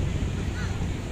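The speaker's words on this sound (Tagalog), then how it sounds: "Ganyan kalakas yung hangin pero kinaya naman niya" Strong outdoor wind roars and buffets the microphone in a steady, dense rush while a drone is flown, loud and continuous with no voices.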